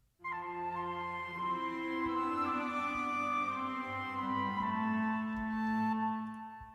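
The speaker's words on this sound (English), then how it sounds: "harmony with the flutes" Flutes play a sustained harmony line in an orchestral fantasy game theme for Beyond Skyrim Morrowind, clear, soft and continuous, with held tones over an orchestral backing.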